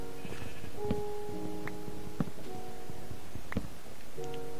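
Sheep in the Minecraft video game bleat several times in short, wavering game-style calls, spaced irregularly over a faint steady background hum.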